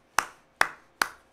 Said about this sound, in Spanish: Bravo, aplausos para Sandra.